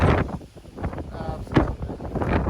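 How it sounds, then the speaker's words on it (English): Strong gusts of wind on a mountain trail buffet the microphone in loud, uneven roaring surges that rise and fall for a couple of seconds. "the wind is up here"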